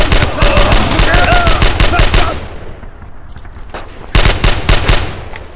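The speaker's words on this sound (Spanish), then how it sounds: "¡Disparad todo lo que tengáis!" Rapid bursts of machine gun fire in the World War II shooter Brothers in Arms, loud and close, a long volley, a brief lull, then another sustained burst.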